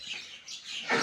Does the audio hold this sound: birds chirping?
yes